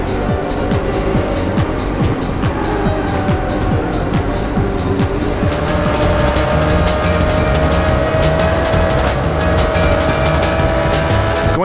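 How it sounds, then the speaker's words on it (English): Race cars in the Test Drive Le Mans video game roar past in a steady, loud engine drone, with rising whines and quick passing sweeps carrying through the whole replay. "watch the cars come speeding toward you in the replay with their headlights blazing"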